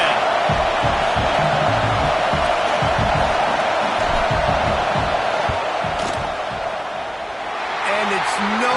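Stadium crowd roar in a Madden football video game as the field goal unit lines up on fourth down, a steady loud dense rumble throughout that thins briefly near the end.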